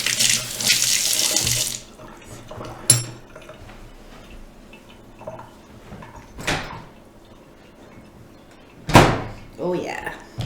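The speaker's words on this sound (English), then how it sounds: "Let me rinse off my fork because it's got a lot of bouillon on there." Kitchen tap running as a fork is rinsed, a loud hiss of water at the start, then scattered clinks and short water bursts, with a person talking in between.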